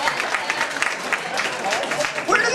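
A comedy-club audience claps in a burst of scattered applause, close and lively, with voices mixed in.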